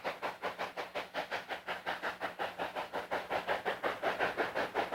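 The Durango & Silverton train rolls along the rails with a steady, rhythmic clickety-clack of wheels over track joints, beating evenly and loudly with no voices.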